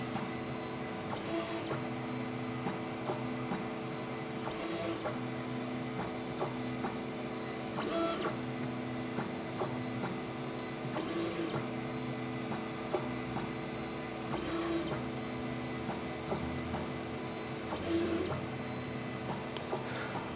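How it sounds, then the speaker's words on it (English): A Wanhao Duplicator 6 3D printer runs its auto bed leveling with a low, steady hum, punctuated by short, sharp whirring bursts from the moving head about every three seconds. "please wait until the auto bed leveling process is finished, and then you can start printing"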